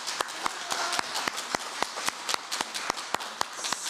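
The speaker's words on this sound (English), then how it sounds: "Let's give a big round of applause for Chiki." Applause from an audience at an online event for a global peasants' movement, sharp separate claps in a loose rhythm over a continuous soft clapping bed, moderately quiet and without talk.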